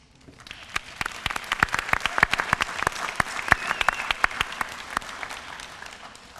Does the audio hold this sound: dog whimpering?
no